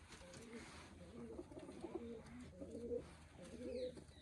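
Pigeons coo softly in a loft or rooftop coop, a low repeating burble heard over light background noise with no voices.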